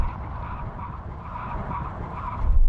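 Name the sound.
Mercedes-AMG G63 emergency braking from 70 mph, tires skidding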